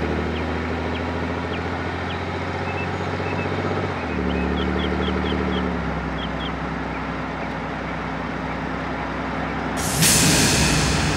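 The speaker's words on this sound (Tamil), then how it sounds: "டிரைவர், வண்டி நிறுத்து. ரிவர்ஸ் எடு." A vehicle stops and reverses, its engine droning steadily, with a hiss of air release and a short run of faint, repeated reversing beeps.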